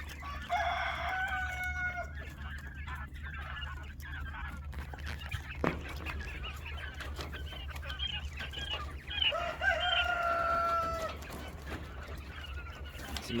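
Quail call in a burst of bright, whistled notes at the start and again partway through, over a steady low background hum with scattered light rustling between the calls.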